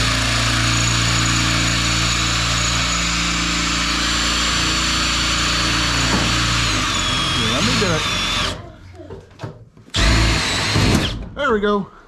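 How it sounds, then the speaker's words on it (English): A power drill runs loudly and steadily in a workshop for several seconds, then cuts out and restarts in short bursts, with people talking nearby. "Let's drill that one out."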